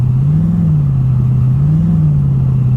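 A blown Holden VK engine revs at a car show, producing a loud, steady, close rumble with gentle rises and falls in pitch as the throttle is blipped lightly.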